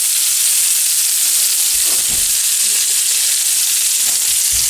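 Onions frying in a pan for French dip sandwiches, a loud, steady sizzle with soft scraping thumps where a wooden spoon stirs them, no talk over it.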